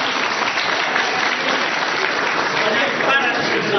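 Sustained audience applause at a celebration of the TKS "Bóbr" club, honouring a former goalkeeper now a veteran; dense, loud, steady clapping from a crowd, with voices mixed faintly underneath.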